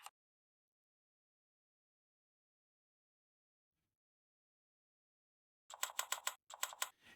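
Fast typing on a small computer keyboard, a quick run of crisp clicks after a long silence, close and clear, with no talking over it.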